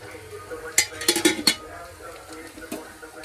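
Pieces of fried bata fish going into a pan and being stirred, with a burst of spoon-on-metal clinks and scraping in the middle, then a faint sizzle and one later tap.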